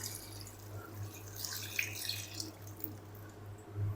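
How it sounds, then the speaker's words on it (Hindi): Water poured over cut cauliflower and potatoes for aloo gobi, a steady close splashing and trickling with a low hum underneath, no talking. "तो इसके अंदर पानी ऐड कर देते हैं।"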